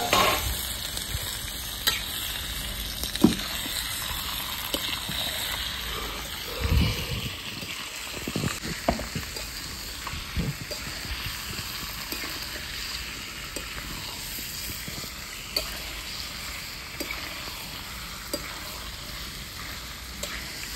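Chicken pieces drop into a pan of browned onions cooking over a wood fire, setting off a loud, steady sizzle with scraping stirs and a brief bubbling surge early on, continuing without any talk.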